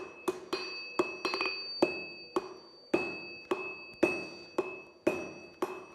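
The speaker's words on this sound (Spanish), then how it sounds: "Para que pare de martillar hay que hacer eso de pim pam, pim pam." Sharp ringing hammer blows on hot iron on a century-old anvil while forging an axe, about a dozen strikes in an uneven rhythm with a brief pause, each leaving a bright metallic ring.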